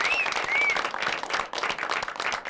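An audience applauds a singer at a live midnight variety show, steady dense clapping filling the room with a few faint whistles, loud and continuous throughout.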